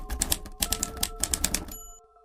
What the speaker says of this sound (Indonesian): Seperti orang sedang mengetik.